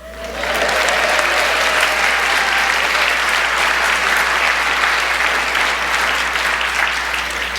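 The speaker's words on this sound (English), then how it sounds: "And you can clap now for our small but incredibly mighty staff." A conference audience at a Massachusetts land conservation plenary session applauds the staff, a loud, sustained, even wash of clapping that builds quickly and holds steady to the end.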